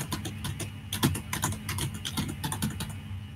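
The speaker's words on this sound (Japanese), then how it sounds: "キーボードだけにしてみます。" Steady typing on a computer keyboard, a rapid run of close, crisp key clicks over a constant fan-like background hiss, with no voices.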